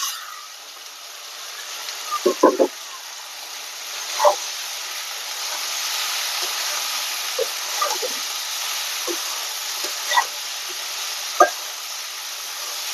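Sliced okra fries in a hot pan with a steady soft sizzle, broken by a few sharp scraping clinks of a spoon stirring it.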